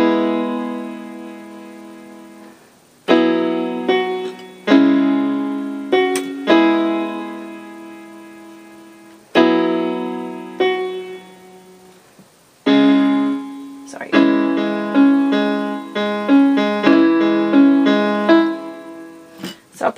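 Piano plays the middle eight of a song with both hands, slowly: sustained chords and single notes ringing and decaying between phrases, close and clear, with no voice.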